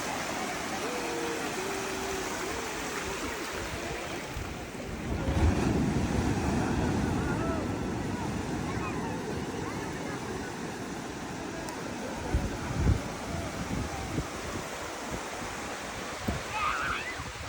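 Ocean waves washing onto the beach at Somnath, a continuous wind-blown surf roar with a swell in the middle, with faint voices now and then.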